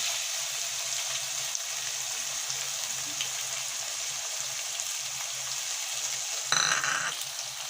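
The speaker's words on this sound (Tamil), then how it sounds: "இப்போ ஆனியன் வந்து நல்லா ப்ரௌன் கலர் கோல்டன் ப்ரௌன் கலரில் நம்மளுக்கு ஃப்ரை ஆகணும்" Onions fry in oil with garlic toward golden brown for a spicy kovakkai kulambu, a soft, even, rain-like crackle held steady throughout, then a brief louder scrape of stirring near the end; no one speaks.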